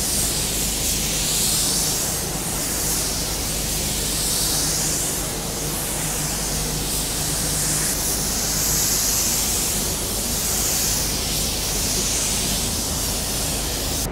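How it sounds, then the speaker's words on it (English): A paint spray gun hisses continuously while applying paint onto a car body, a steady, close, broadband spray running for the whole stretch with slight swells as the gun passes. "Let's spray that on the car"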